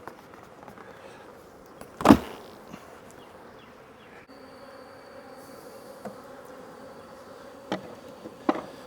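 Honey bees buzz at the hive as a faint, continuous drone in the background, broken by a loud thump and a few sharp knocks from handling equipment.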